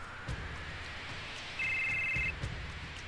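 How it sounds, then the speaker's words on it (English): A cell phone chirps in Final Fantasy VII: a short electronic trill of steady high tones that lasts under a second, heard clearly over the game's quiet background music and ambience, with no talk. "that lovely cell phone chirp"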